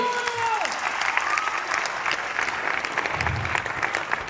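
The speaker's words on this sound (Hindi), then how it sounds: "मैं चाहूंगा अगेन तक जोरदार तालियां होनी चाहिए" Loud applause from a seminar audience fills the room steadily for several seconds, with a brief whistle near the start and faint voices mixed into the clapping.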